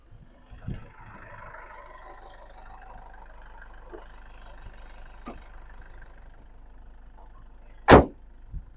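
A 2015 Toyota Innova 2KD diesel engine idles quietly at close range, a low steady hum broken by a few light clicks and one sharp loud knock near the end.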